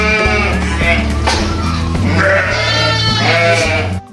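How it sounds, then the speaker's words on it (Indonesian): A curly-wooled sheep bleats in a drawn-out, wavering series of loud, close calls that run almost continuously, with a steady low hum underneath and no talking. "ini si keriting domba"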